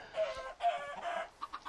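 A chicken on a video game farm gives a few quick, close clucks in short bursts, ending with softer choppy clucks.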